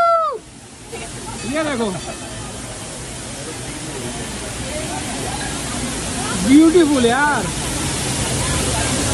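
A waterfall spills beside a cave shrine near Indore, making a steady broadband roaring hiss throughout while people talk and chatter over it nearby.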